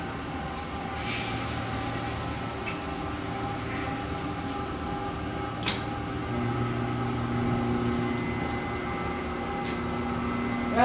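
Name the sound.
web converting machine with WrinkleSTOP roller running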